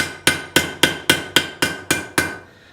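A hammer strikes forged steel on an anvil in eight sharp, evenly spaced ringing blows about a third of a second apart. Each blow is loud and close, with a short metallic decay and no speech.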